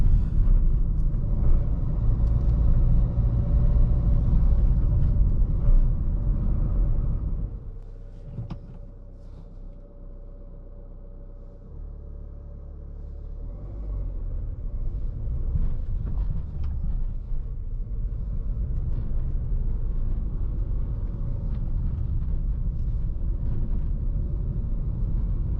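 A 2022 Mahindra XUV300 1.5L diesel SUV with manual gearbox driving on a gravel road, heard from the cabin as a low, continuous rumble and road roar. It drops quieter partway through, then builds back to a steady drone.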